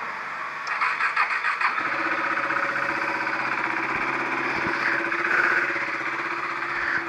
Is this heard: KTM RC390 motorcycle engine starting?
yes